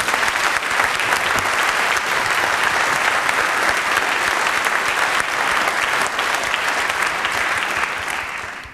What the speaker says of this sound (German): Deshalb an dieser Stelle bitte einen herzlichen Applaus